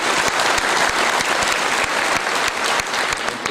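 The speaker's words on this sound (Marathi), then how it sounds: "आपल्या सर्वांचं टाळ्या वाजवून सगळ्यांचं स्वागत करा" A crowd at a farmers' rally in Chandur Bajar claps steadily to welcome guests, thick sustained applause from many hands with a few louder individual claps standing out.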